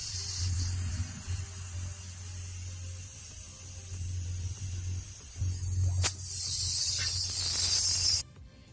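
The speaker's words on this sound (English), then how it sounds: "You don't have to have much of an air compressor." A small portable air compressor inflates a classic car tire, giving a steady low hum and hiss that swells louder near the end before cutting off abruptly.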